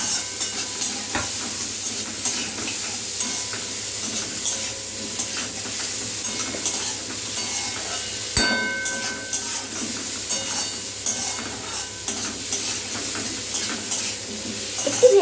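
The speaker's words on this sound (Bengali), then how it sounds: "এরপর বাঁধাকপি, কাজু বাদাম দিয়ে ভালো করে একটু মিশিয়ে নিচ্ছি।" Cabbage and cashews sizzle steadily in hot oil for khichuri while a spoon scrapes and stirs the pan, making a close, continuous frying hiss with occasional clinks and no talking.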